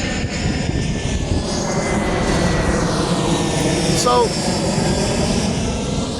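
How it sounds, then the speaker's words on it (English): An airplane flying overhead, a loud steady engine roar filling the whole stretch and swelling slightly, with someone speaking briefly beneath it. "Hold on a second, wait for this airplane to go."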